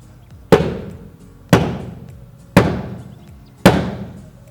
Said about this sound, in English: You're simply going to hit it flat.